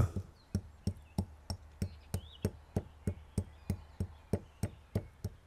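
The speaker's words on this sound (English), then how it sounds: "We grind in the mortar black pepper and coriander seeds." Black pepper and coriander seeds are pounded in a mortar for a medieval fried fish sauce, with about twenty evenly spaced sharp knocks in a steady rhythm, close and fairly quiet, without any talk.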